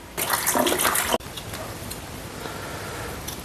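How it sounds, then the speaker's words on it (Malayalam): Tap water runs loudly for about a second while fish and ingredients are washed for a coconut-chunk stingray curry, then drops to a faint, steady trickle. "ഇനി ഇതെല്ലാം ഒന്ന് കഴുകി വാരിയെടുക്കാം."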